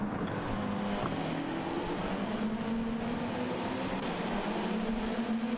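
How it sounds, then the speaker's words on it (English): Simulated GT race car engine at the Grand Valley Highway 1 track, droning steadily and loudly with a brief dip near the start as it shifts between fourth and third gear, then holding a constant revving tone throughout. "Hanging out in fourth gear, down to third, shifting back up to fourth."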